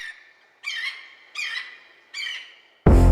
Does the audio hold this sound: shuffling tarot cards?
no